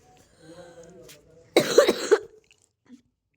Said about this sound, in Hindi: मुझे थोड़ा सा कार्फ हो रखा है, खांसी वासी है